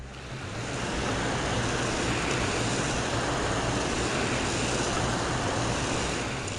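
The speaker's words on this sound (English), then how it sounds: "we're going to hold the hose about 1 foot away from the plant, or 2 feet, just so we're not blasting it" A garden hose sprays water steadily onto a plant from one to two feet away, giving a continuous, loud, broadband hiss that holds evenly throughout with no talking.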